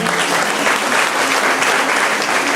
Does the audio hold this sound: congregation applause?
yes